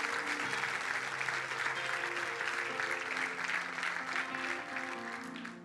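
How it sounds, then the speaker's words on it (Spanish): A church congregation applauds in strong, continuous clapping that holds level and then slowly tapers, with low sustained tones, likely music, underneath. "un fuerte aplauso a Dios por eso"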